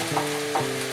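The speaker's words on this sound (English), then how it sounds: "I'm going to let those vegetables saute for a short time." Vegetables sauté in olive oil in a pan, giving a steady close sizzle with a couple of soft stirring scrapes.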